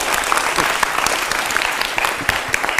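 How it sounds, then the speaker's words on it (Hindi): Dense, steady audience applause celebrating the Chandrayaan-3 launch, a loud continuous wash of many hands clapping with no pauses. "तो जोर से तालियां बजाकर सेलिब्रेट कर दीजिए।"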